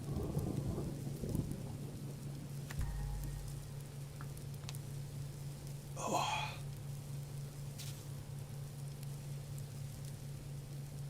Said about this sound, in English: it's a bit of a rainstormy night